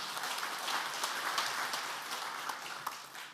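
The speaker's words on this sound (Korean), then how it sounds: "목사님께 감사의 박수를 드리겠습니다" A church congregation at a men's fellowship prayer meeting claps in thanks to the pastor: a short, steady patter of many hands from the room, fairly even throughout and thinning slightly at the close.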